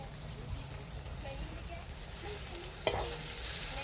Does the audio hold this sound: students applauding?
no